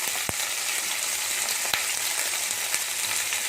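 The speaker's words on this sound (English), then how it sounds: "So we use the British rapeseed oil for frying." Salmon fillets fry in hot British rapeseed oil, a loud, steady sizzle and crackle with a few sharp pops and light stirring or pan clicks, heard alone without talk.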